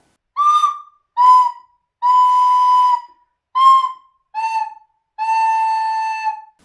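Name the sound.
recorder notes played separately without tonguing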